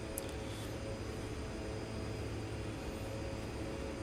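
Steady droning airplane engine in the X-Plane 11 flight simulator, a constant broadband hum with a faint tonal whine, holding even and unbroken throughout.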